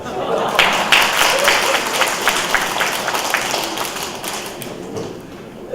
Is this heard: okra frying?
no